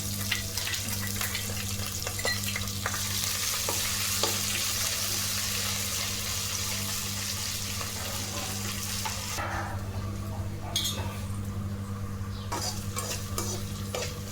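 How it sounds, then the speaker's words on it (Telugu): Ginger garlic paste frying in a pan, a continuous close sizzle with stirring scrapes, a constant low hum underneath and a brief quieter stretch near the end. "అల్లం వెల్లుల్లి ఫ్రై అయింది కదా"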